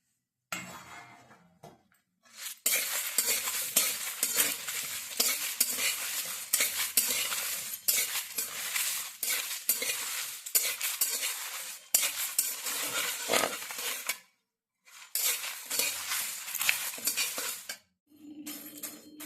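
Spices with fenugreek seeds being dry-fried and stirred in a pan for homemade chyawanprash: a loud, steady scraping and sizzling with clinking utensil strokes, broken by two short pauses.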